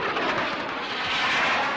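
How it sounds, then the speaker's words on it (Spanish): Bombs and exploding fuel set off explosions at the airport in Puerto Argentino during the Malvinas (Falklands) war. The sound is a dense, continuous rumbling roar of blasts, loud and unbroken, with no talk. "Siguen las explosiones en el aeropuerto que podrían ser originadas, además de las bombas, por los combustibles que explotan."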